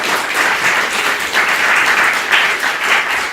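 A live audience applauds after a comedic sitcom scene is acted out on stage, with loud, continuous, even clapping from a crowd and no speech over it.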